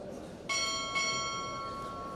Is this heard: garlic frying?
no